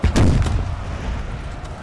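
Musket and artillery fire in a Napoleon Total War battle at Krasnoi, 1812, video game: a loud booming blast up front that rolls into a dull rumbling tail of scattered distant shots.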